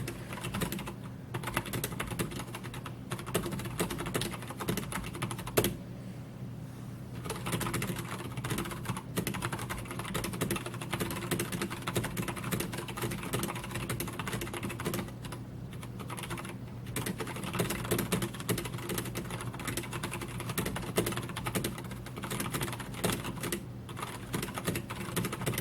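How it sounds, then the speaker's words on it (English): Fast continuous typing on a Velocifire VM01 mechanical keyboard, dense rapid key clacks running throughout at close range with brief pauses between bursts and no voices. "So how about we have a typing test, right?"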